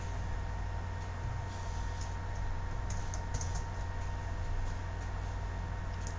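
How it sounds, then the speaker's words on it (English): Steady, quiet clicking of computer keyboard keys as a description is typed, continuous and close with a faint background hiss. "Next, type in a description."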